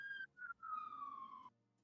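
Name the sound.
siren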